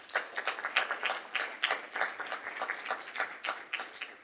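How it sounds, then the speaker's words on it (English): Audience applause for faculty members at the close of a cardiac amyloidosis conference, heard as a modest, fairly quiet patter of clapping hands with distinct individual claps pulsing throughout. "So give all the faculty members a big applause."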